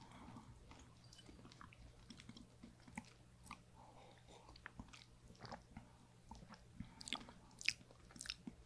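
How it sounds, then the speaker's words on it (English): Crunchy Dutch butter candy is chewed close to the microphone, with irregular crisp bites and crackling crunches repeating throughout, quiet overall with sharper snaps toward the end. "we got another crunchy candy"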